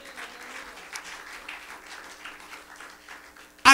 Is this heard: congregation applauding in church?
yes